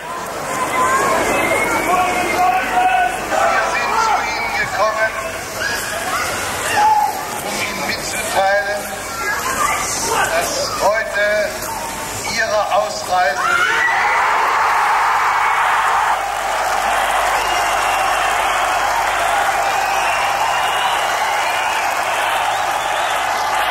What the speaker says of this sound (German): Jubel gestern Abend in der Bonner Botschaft in Prag.